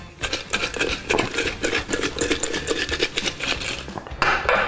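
Homemade fried potato chips tossed with seasoning in a bowl, a continuous loud rustling, crackling patter with rapid irregular clinks, close and alone, ending with a sharper scrape.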